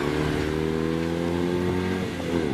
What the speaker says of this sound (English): that's Anthony Ward in the BMW 2002.